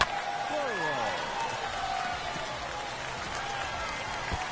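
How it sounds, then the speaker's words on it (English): A home baseball crowd cheers and applauds after a two-out double in a San Antonio Missions vs Springfield Cardinals game, a steady roar of clapping and shouting that holds for several seconds beneath a commentator's voice. "And the home crowd goes crazy."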